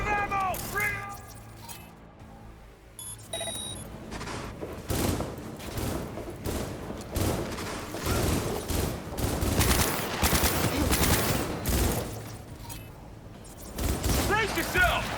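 Gunfire rattles in Cyberpunk combat, dense bursts and single shots piling up over the middle and end, loud and close, with a voice shouting over the fight.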